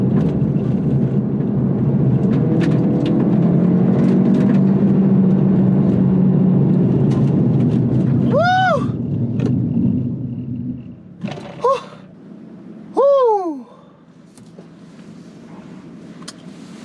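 A car brakes hard from 60 mph to a stop with WD-40 sprayed on its brake rotors. A loud, steady road rumble fades away as it halts, followed by a few short rising-and-falling squeals.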